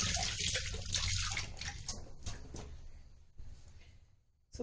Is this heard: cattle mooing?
no